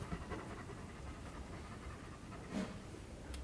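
A goat pants and breathes close by in a steady, rough rhythm for the whole stretch, with a slightly louder huff near the end.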